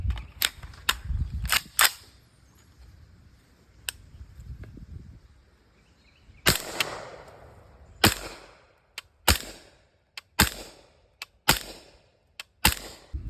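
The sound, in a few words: suppressed 300 Blackout gunshot, 220 grain Ammo Inc Stealth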